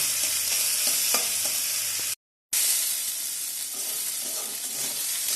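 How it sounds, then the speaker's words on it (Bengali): Green peas and fresh grated coconut fry lightly in a hot pan with a bright, close, steady sizzle and a few soft stirring knocks, cut by a brief moment of total silence partway through. "হালকা ভেজে নেব।"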